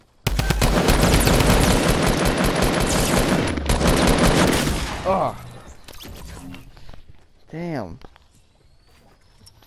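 Fortnite gunfire in Playground mode: a long, loud burst of rapid automatic fire for about four seconds that then thins into a few scattered shots and in-game sounds, with people talking over it.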